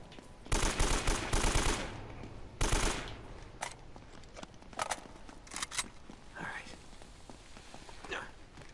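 AK rifle fire in the action video game Uncharted: Drake's Fortune: loud, close bursts of automatic fire up front, then scattered single shots and sharp impacts over game ambience.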